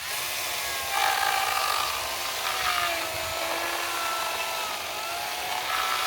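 A Makita 18V XCU06Z 10-inch cordless chainsaw cuts steadily through firewood, its high electric whine and chain rasp continuing close and loud for several seconds with slight shifts as the bar bites.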